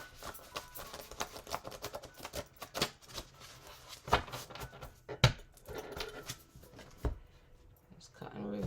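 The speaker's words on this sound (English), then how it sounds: "Let's get shuffled in." Tarot cards being shuffled by hand, a quiet, fast patter of riffles and taps with irregular sharper snaps, close to the microphone.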